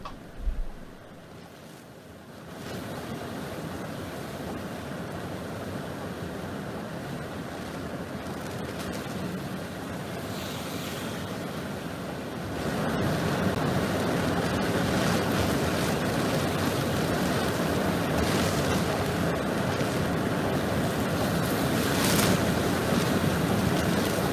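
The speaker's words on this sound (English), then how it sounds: "This is Hurricane Ian making landfall as a major Category 4 hurricane over southwest Florida." Hurricane Ian making landfall as a Category 4 storm over southwest Florida, a continuous roar of wind and surf that grows louder partway through, with wind buffeting the microphone and no voices.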